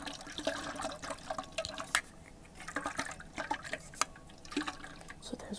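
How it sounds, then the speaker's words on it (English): Water sloshes and gurgles inside a water bottle in an ASMR setting, with soft, irregular splashes and drips close to the mic. "This is a water bottle."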